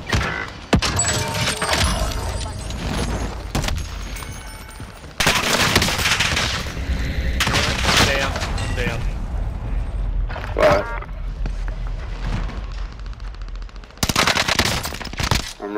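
Gunfire in Call of Duty: Modern Warfare, loud rapid automatic bursts and explosive booms in several dense clusters separated by brief quieter gaps, close and harsh throughout.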